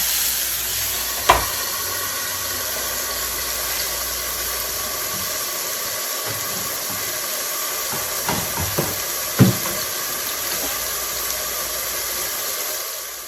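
Chicken with butter and a splash of water sizzles and steams steadily in a pan, a continuous hiss with a few sharp pops and spits scattered through, close and fairly loud, with no talking.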